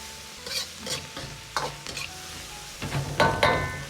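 Green beans stir-fried with salt and soy sauce in a hot wok: a steady sizzle under a series of scraping, clattering spatula strokes, close and fairly loud, with no voices.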